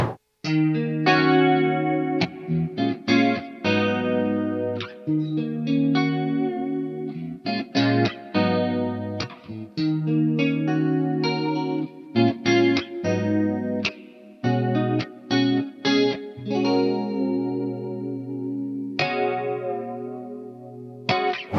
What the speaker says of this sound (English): So now what you're hearing is just the direct signal.